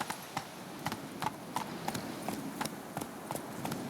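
Roach, a horse in The Witcher 3, gallops with a rhythmic, close clip-clop of hooves, steady and repeated, about three beats per second throughout.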